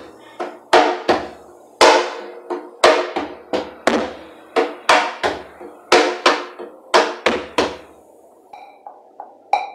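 Cajón played in an Afro-Peruvian festejo pattern, mixing sharp accented slaps with softer ghost notes in a steady syncopated rhythm, close and clear with no talking.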